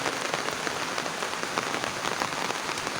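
Steady rain falls on a flooded vegetable garden, a dense, even hiss of drops striking wet ground and leaves, constant and fairly loud throughout.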